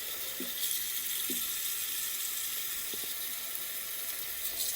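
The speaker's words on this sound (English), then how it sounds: "Alright, so now I'm just going to fill this up with cold water." Steady hiss of a tap running cold water into a container for rinsing a wig, a continuous even stream close by with a few faint knocks and no talking.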